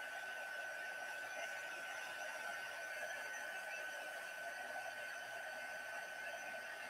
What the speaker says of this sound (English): Just doing a little bit of embossing. Really want to melt that powder.